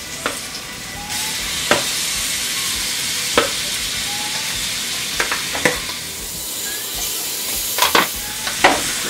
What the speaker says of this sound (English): So now I'm going to start adding in my beef.